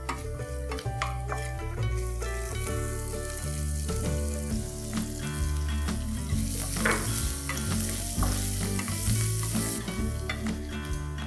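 Finely chopped onion sizzles in hot oil with garlic while a spoon stirs it in the pan for dahi bhindi. The frying hiss is steady, with scraping stirs and light clinks, under prominent background music.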